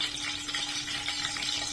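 Chopped garlic sizzling in hot oil for a chutney tempering, a steady bright crackle and hiss held close and constant with no voices.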